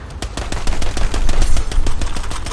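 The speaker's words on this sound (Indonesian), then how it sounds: "Berikutnya lagi kita assault rifle" Rapid automatic fire from an assault rifle in the video game Worms Rumble, a steady rattling burst of closely spaced shots running loud and continuous through the whole stretch, with no talking.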